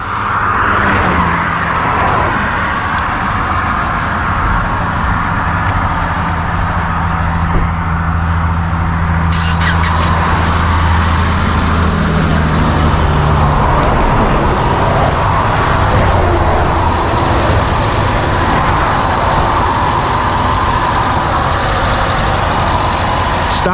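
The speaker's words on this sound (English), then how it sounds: "Get inside and start the car." A car engine turns over and settles into a steady idle, with a low rumble holding throughout and a brighter rise in broadband noise partway through, loud and close with no talking.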